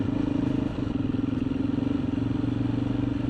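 A motorcycle rumbles steadily while being ridden on a rural road past a small hamlet, a continuous droning engine note close to the rider with no speech.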